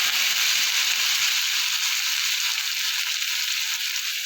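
Cauliflower stalks, first steamed with salt and turmeric, drop into hot oil tempered with cumin and set off a steady, bright sizzle that holds loud and even throughout with no talking.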